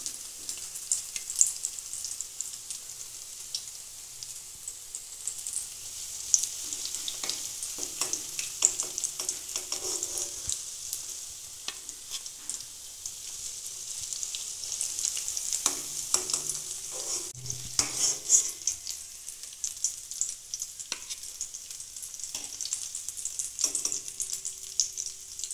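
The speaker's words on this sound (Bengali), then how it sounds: "বাকিগুলোও আমি ভেজে নেব।" Vegetable kofta balls fry in hot oil with a steady, close bubbling sizzle that crackles on without a break, joined now and then by soft clinks and scrapes of a utensil in the pan.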